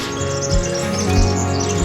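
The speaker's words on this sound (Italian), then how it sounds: "Sentite gli uccellini?" Small birds twitter in short, high, scattered chirps at a quiet palm grove campsite in Morocco, heard moderately close over a steady background hum, with no talking.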